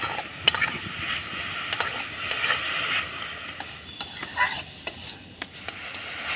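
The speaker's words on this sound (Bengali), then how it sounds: "এবার নাড়াচাড়া করে আমি পুরটা তৈরি করে নেব।" Momo filling is stirred in a hot pan, a soft continuous sizzle broken by sharp clicks and scrapes of a spatula against the metal, close and steady with no voices.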